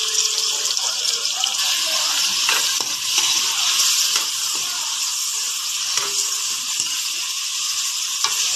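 Tomatoes sautéing in a pan after onions, a steady bright sizzle that holds evenly throughout, with small clicks and scrapes from stirring.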